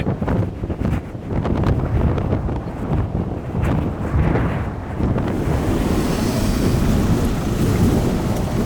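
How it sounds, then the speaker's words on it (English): Strong wind roars and buffets against a van on the Bealach na Ba pass in Scotland, heavy low rumbling gusts rising and falling close to the microphone. "This is the wind. It's a windy day in the van."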